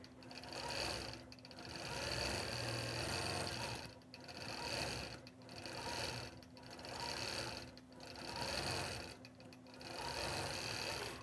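A sewing machine stitches a continuous quilted egg pattern inside sashing on a quilt, humming steadily in several long runs separated by brief pauses, fairly quiet and close.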